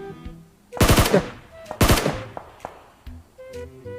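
Automatic gunfire in the mobile battle-royale game PUBG Mobile, heard as two loud close bursts of rapid shots about a second apart, followed by quieter game sounds and small clicks.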